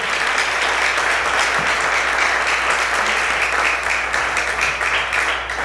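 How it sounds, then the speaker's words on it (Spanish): A church congregation claps in sustained, dense applause as an offering to God, steady and loud throughout with no break. "Una ofrenda de palmas al Padre, al Hijo y al Espíritu Santo."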